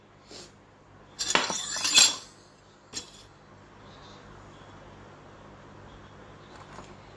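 Utensils clink and scrape against a jar or bowl while whole wheat flour is fed into a whole wheat sourdough starter, with a short cluster of clatter near the start, one later tap, then quiet handling.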